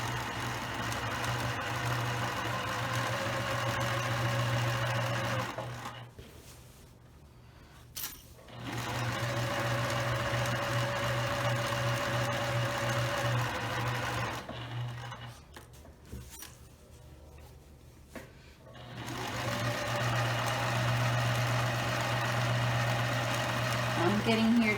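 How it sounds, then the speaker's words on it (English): Sewing machine stitching a straight seam down a pillowcase, a steady close whirring run that stops twice for brief pauses before resuming. "And I'm going to continue to sew straight down."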